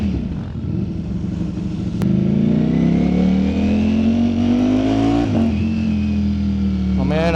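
A Ducati Streetfighter G7 motorcycle engine runs loud and close, its steady rumble rising in pitch as it revs, with a sharp blip near the start and another rise at the end; a voice is heard over it.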